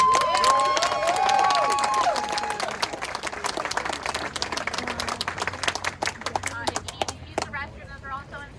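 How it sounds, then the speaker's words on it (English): Crowd applause at a Second Amendment rally, a steady burst of clapping with some cheering that fades over several seconds, with a voice talking over it near the start. "Can we give them another round of"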